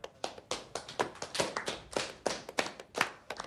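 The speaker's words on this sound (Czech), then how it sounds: "Nějaký potlesk, ne?" A small group claps in a quick, uneven burst of handclaps lasting a few seconds, close and fairly loud, with no talking.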